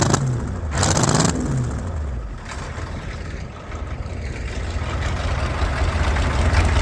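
Steady rumble of a Ford 300 inline-six engine running, a dense continuous drone with a brief surge early on, no voices.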